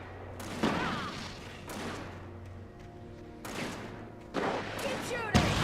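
Gunfire in the horror video game Alan Wake Remastered, several separate blasts and thuds spaced across a few seconds with a low drone between them, under shouting voices.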